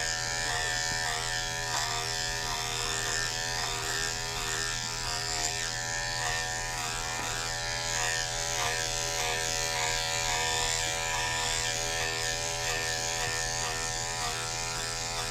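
Electric clippers grooming a dog hum in a steady, continuous buzz for the whole stretch, close by but fairly soft, with no talk over it.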